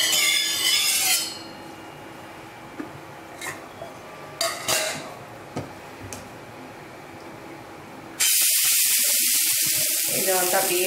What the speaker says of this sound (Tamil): இப்போ வந்து அடை ஊற்றலாம்.